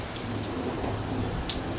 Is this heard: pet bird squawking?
no